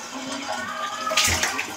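Water runs steadily during washing, a continuous rushing splash heard close by that swells briefly midway through the short stretch.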